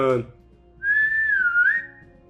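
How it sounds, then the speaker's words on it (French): A winged, harpy-like character whistles one long, wavering, sliding tone, clear and fairly close, after a brief burst of speech at the start. "Elle siffle de façon bizarre. Elle réitère ce sifflement."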